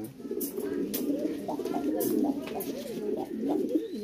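Siraji pigeons cooing nearby in a pigeon loft, several birds giving overlapping soft, throaty rolling calls with a few faint sharper noises in between.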